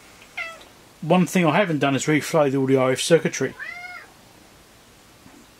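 A cat meows in a repair workshop where a sports timer is being fixed, once briefly before someone speaks and then again in a clear, drawn-out call just after he finishes, both close by.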